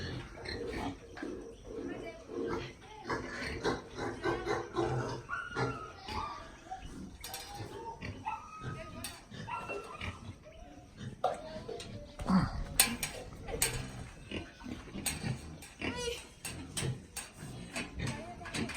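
Pigs in farm pens grunting and oinking at close range, irregular snorts and squeals mixed with metallic clanks from feeders or gates, with people talking over much of it.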